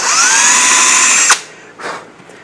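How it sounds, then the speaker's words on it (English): A power drill whines steadily while boring a countersink hole in a wooden shelf during a towel bar replacement, loud and close, then cuts off abruptly and briefly whirs down again. "we'll do a countersink."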